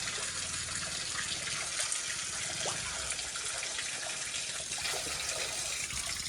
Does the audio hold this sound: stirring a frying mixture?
no